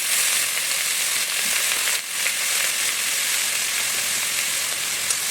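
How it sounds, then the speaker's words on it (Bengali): Banana stem frying in hot oil with bay leaves and chilli, a steady close sizzle and hiss running throughout with one brief dip partway. "এবারে কলার থোরগুলো কেটে আমি হলুদ নুন দিয়ে মেখে রেখে দিয়েছিলাম এবার ধুয়ে দিয়ে দিলাম"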